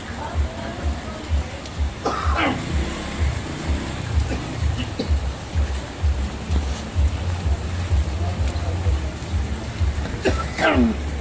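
Steady rain patters and hisses outdoors during a street drain declogging operation in Tondo, Manila, with a constant wash of noise and people talking now and then.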